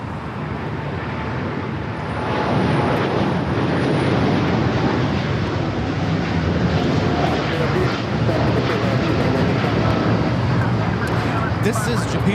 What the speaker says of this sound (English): This is Japan Airlines Flight 69 taking off to Osaka on the 7879 Dreamliner